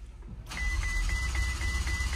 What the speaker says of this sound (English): So if I take the vehicle off and then I go to attempt to restart the vehicle,